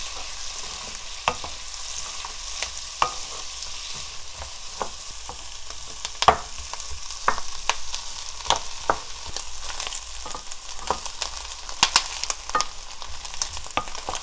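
Garlic scapes and mussels stir-frying in a pan, a steady low sizzle broken by frequent sharp clicks and scrapes of a utensil against the pan, with no voices.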